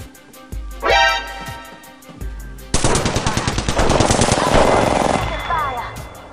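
Rapid automatic gunfire in the video game Apex Legends, a short burst and then a long sustained string of loud evenly spaced shots, with game effects and a player's voice around it.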